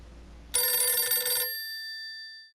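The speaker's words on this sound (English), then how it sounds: "suddenly the phone in the basement began to ring" An old telephone mounted by basement stairs rings with one bright metallic bell burst that cuts off and leaves a fading ring, loud and close, as a narration sound effect.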